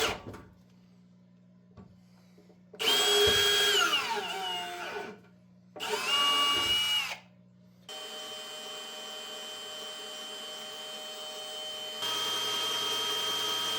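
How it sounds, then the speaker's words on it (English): A power drill whirs in two loud bursts with rising motor pitch, separated by quiet pauses, while working on tow hook and brake deflector parts for a Mustang race car build, followed by a steady machine hum. "So when I do get the right bit, it'll be much easier to drill."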